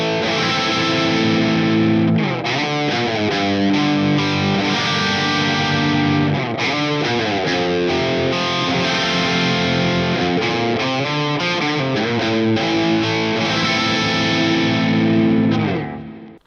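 Loud, crunchy overdriven electric guitar through a Boss Katana amp with a plexi-style tone, playing chords and riffs continuously, with gritty amp distortion and slight ambient echo, no voices.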